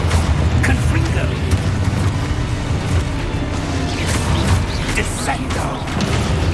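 Blasting spell explosions in a video game, with a dense, continuous rumble of booms and crashes under loud layered effects, heard close and without a break.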